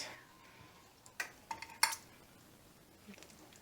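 Ribs are flipped over in a cooking pan, giving a few quiet, scattered clinks and scrapes of a utensil against the pan over a faint background hiss, with a soft knock near the end.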